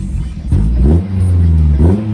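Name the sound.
SUV engine revving with new exhaust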